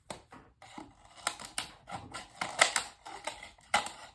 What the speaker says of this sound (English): what I'll do lastly is cut along the line